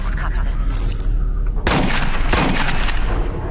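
Heavy M240 machine gun fire in the video game Aliens: Colonial Marines, a dense, loud continuous burst that swells sharply about halfway through and roars on to the end.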